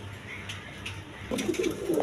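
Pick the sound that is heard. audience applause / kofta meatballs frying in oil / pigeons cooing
pigeons cooing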